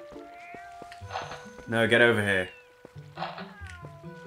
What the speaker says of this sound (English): Dumb fucking cat!